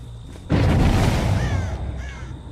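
Game audio from Dead by Daylight: a sudden loud burst of crow flapping and raspy cawing erupts and fades over a couple of seconds.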